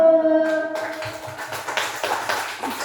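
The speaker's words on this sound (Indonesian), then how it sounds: "tepuk tangan dulu" Kindergarten children in a class clap their hands together in a quick burst of rhythmic claps, fairly close and clear, following a brief sung or spoken tone at the start.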